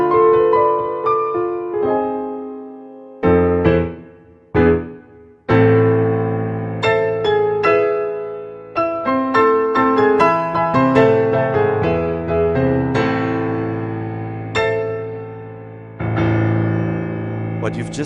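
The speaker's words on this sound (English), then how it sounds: "What you've just heard is the VIVO Grande concert piano sound" A Dexibell Vivo H7 digital piano playing its VIVO Grande concert piano sound delivers a loud, rich solo passage of chords and runs with sustained, decaying notes and brief pauses, heard alone without talking.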